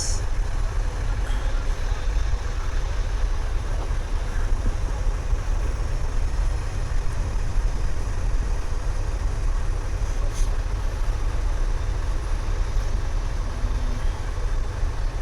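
Steady low rumble and drone inside the cab of a cargo truck on the move, engine and road noise constant and close with no talk, a few faint rattles.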